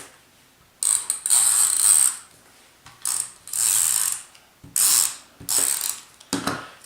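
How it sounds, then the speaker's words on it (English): Double-sided tape being run along the edges of a handmade card, five close, loud ripping and dispensing bursts separated by short pauses, with no talk. "Then I'm going to take my double-sided tape and I'm going to run it along"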